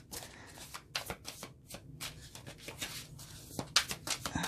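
Hoodoo Tarot cards being shuffled by hand, a run of quick crisp riffling and sliding bursts with brief pauses, close and fairly quiet, with no talking.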